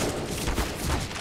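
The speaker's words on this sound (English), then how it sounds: "Why am I getting shot through smoke?" Counter-Strike gunfire on Dust2, fired through smoke, with a rapid volley of close shots in a quick rattling burst and no talk over it.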